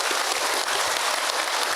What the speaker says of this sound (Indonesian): Tepuk tangan untuk Ibu Wulan.